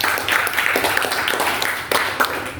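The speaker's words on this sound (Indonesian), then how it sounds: "Silahkan tepuk tangan untuk Yuliana." Short burst of audience clapping in a classroom during a lesson, a scattered patter of hands over a few seconds, fairly close and moderately loud.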